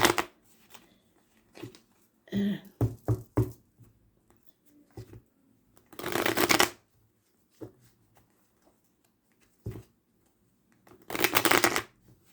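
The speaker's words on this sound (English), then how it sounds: "Let's give him a good shuffle." Tarot cards being shuffled close up in several bursts, riffles and quick handling between short pauses, with two long riffle shuffles standing out; nobody speaks.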